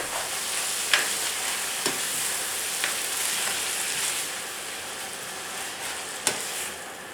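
Steady sizzling of chopped bell pepper and its juices frying in a hot pan over medium-high heat, with a few sharp scrapes and taps of a utensil stirring through, no voices.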